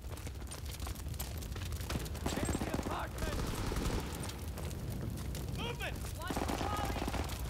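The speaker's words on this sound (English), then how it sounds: "let's try the grease gun" A grease gun submachine gun fires in a Call of Duty WWII team deathmatch match: rapid, dense bursts of gunfire and booms crowd the whole stretch, with other weapons likely firing in the mix.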